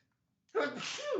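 A single sudden sneeze from a commentator during a Magic: The Gathering match broadcast, close and fairly soft, after a half second of near silence.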